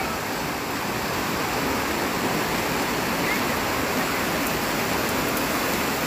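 Flood water rushes through Denpasar, Bali, near the Badung market, a loud steady roar of torrent with no clear voices.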